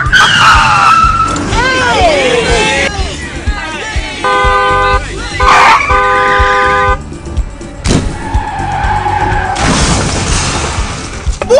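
A car engine roars and tires skid, with horns honking and a loud crash or boom, while voices shout over the chaotic driving noise.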